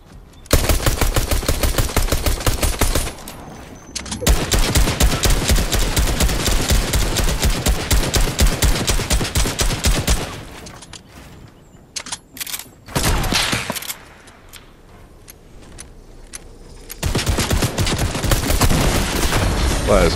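Rapid hip-fired bursts from a heavy gun in a shooter video game, sustained rattling fire in long volleys broken by short pauses, with a player talking over parts of it.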